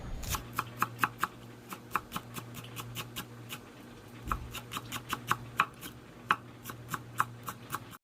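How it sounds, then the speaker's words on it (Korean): Knife finely chopping ingredients on a cutting board, a steady run of sharp, crisp taps at a brisk even rhythm, close and fairly quiet over a low background hum. "이거는 잘게 썰어주세요."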